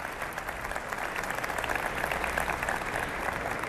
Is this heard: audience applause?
yes